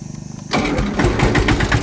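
A tractor at the Alang ship-breaking yard is started with its self-starter: a short rhythmic cranking whirr, then the engine catches and settles into a loud, close, chugging run.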